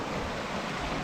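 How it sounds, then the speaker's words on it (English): Ocean waves surge over coastal rocks on a wild Scottish shoreline, a dense, continuous rushing wash of water with wind, loud and close. "Look, here's waves coming right now."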